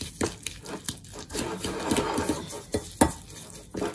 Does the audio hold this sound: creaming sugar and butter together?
yes